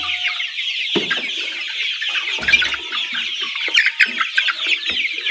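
Layer chicks clucking and peeping together in a poultry house, a steady busy chorus of soft calls with a few louder cheeps rising over it, fairly close.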